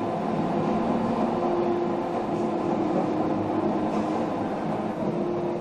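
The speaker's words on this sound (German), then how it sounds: "Mit Europas höchstgelegener Eisenbahn geht es auf einer außergewöhnlichen Fahrt quer durch die Eiger" The Jungfrau railway, Europe's highest rail line, travels through the Eiger north face with a steady, continuous rumble of wheels and carriage, unbroken and without talk.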